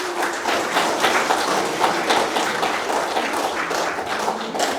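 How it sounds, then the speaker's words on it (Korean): Audience applause at a Korean lecture on culture, a dense, sustained wash of clapping from a crowd that holds fairly even and fades slightly toward the end. "큰 박수 부탁드립니다"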